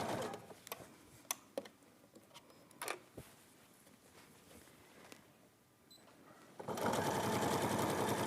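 A sewing machine fitted with a walking foot stitches over piping cord on fabric: a few light mechanical clicks and ticks first, then a loud, steady whirring run of stitches in the last seconds.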